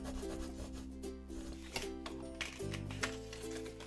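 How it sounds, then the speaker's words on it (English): A small scraping tool rubbed firmly over a vinyl decal on a wedding glass, giving a continuous close-up scratchy rubbing with a few sharper strokes, set against a steady background hum and music-like tones. "I'm just grabbing my little scraping tool. So I've only got the small one, and I'm just rubbing that straight over the top"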